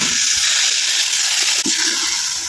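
Water poured into red chilli chicken cooking in a hot pan, producing a loud continuous sizzling hiss that fills the whole moment with no talk.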